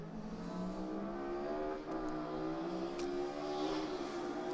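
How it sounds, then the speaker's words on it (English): Touring race cars crossing the line at the end of an Irish Touring Cars race, a continuous high engine whine and revving from cars passing at a distance, with no voices. "Great sound effects as Cian Walsh comes down to take third in the Irish Touring Cars."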